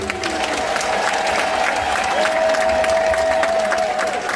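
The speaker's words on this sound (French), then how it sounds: "Applaudissez-les, s'il vous plaît" Applause from the audience at a wedding celebration, a steady dense wash of clapping filling the whole stretch, with a sustained tone running through it.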